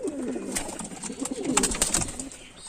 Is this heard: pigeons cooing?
yes